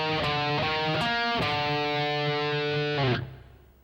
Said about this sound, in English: So the fourth measure sounds like this.